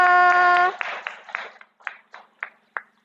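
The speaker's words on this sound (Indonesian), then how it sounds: "tepuk tangan untuk teman kita" A classroom claps for a classmate: a voice sounds at first, then a string of separate, evenly spaced claps follows, each short and slowly fading as the clapping thins out.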